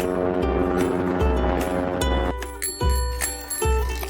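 Bicycle bell rings repeatedly in a short, regular pattern of bright metallic tones over a steady musical background, fairly loud and up close.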